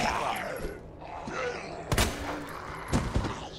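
Gunfire aimed at zombies in the Resident Evil 2 demo, a few sharp shots standing out from a busy game backdrop of ambient noise and thuds, roughly three distinct bursts spaced about a second apart.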